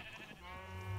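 Sheep bleat in the Minecraft video game, a single short wavering cry heard fairly faint against a quiet background.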